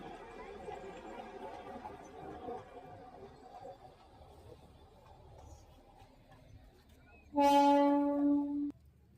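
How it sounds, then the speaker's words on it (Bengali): Faint crowd chatter drifts in the background before the Darjeeling toy train's horn blasts once for about a second as it rounds Batasia Loop, then fades back to murmuring. "টয় ট্রেনটাও এখান থেকে ঠিক ঘুরে যাচ্ছে"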